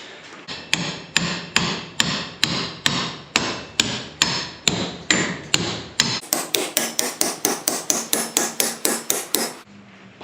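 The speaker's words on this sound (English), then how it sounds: "this is gonna be a hammer job" Repeated hard hammer blows driving bolts through wood, loud and close, in a steady rhythm that quickens toward the end, each strike a sharp metallic crack.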